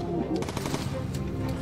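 Rapid, dense bursts of machine gun fire rattle from a World War II bomber in the video game Bomber Crew, loud and continuous across a short stretch with a voice faintly mixed underneath.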